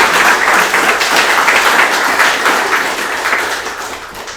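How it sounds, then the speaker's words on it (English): Applause breaks out from the audience at a Melbourne data engineering meetup after a talk. The clapping is loud and continuous and eases off gradually toward the end. "So a big round of applause."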